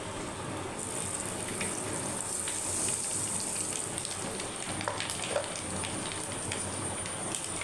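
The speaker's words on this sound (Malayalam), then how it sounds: "അപ്പം നമ്മൾ വെച്ചിരുന്ന എണ്ണ ഏകദേശം ചൂടായിട്ടുണ്ട്. അതിലേക്ക് നമ്മൾ" Mustard seeds sizzle in hot oil with a steady, dense, crackling hiss throughout, near and continuous, with occasional small pops.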